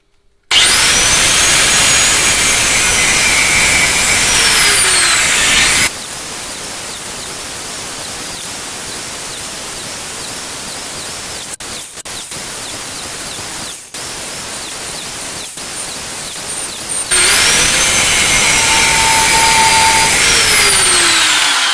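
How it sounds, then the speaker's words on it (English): An angle grinder cuts steel stock for a decorative forged twist, a loud, harsh, continuous whine and grinding hiss that shifts as the cut changes, close and sustained with no talk. "Think I'm going to try it with just a angle grinder."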